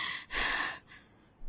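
A woman pants after running, with a few audible gasping breaths in and out, close and soft, with no talk over them.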